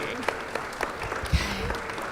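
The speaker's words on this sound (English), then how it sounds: "Can we just have another round of applause for Prism?" Audience applause at a panel event, a steady wash of clapping that carries across the whole moment, with a few sharper claps and some talk mixed in underneath.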